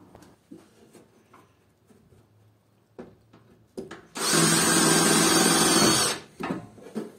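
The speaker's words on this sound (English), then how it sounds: "In this electrical panel, we fasten each duct with two screws." A power driver runs a screw into a wiring duct inside an industrial electrical panel: one loud, sustained whirring burst of about two seconds, preceded by light clicks and handling noises.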